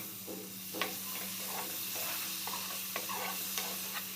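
Fried potatoes go into a sizzling capsicum masala in a pan and are stirred, giving a steady close frying hiss with scattered clinks and scrapes of the spoon against the pan.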